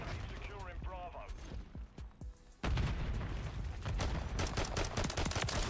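Pistol gunfire in Call of Duty: Modern Warfare III, a run of sharp game shots and impacts at close range, with voice chat talking over the firing in the first half.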